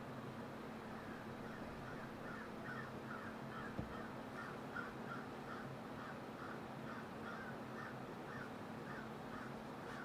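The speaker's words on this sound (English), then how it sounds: "the crow that's calling outside my window right now" A crow caws outside a window repeatedly in a steady series of calls, somewhat distant, over a constant low background hum.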